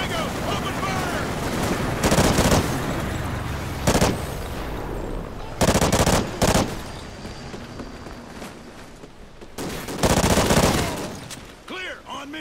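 Video game gunfire in a Call of Duty Ghosts campaign firefight, with loud, rapid automatic bursts cutting in repeatedly over a constant rumbling battle din.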